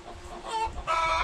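Farm chickens give a short burst of clucking, two quick calls close by and fairly quiet, with no talk.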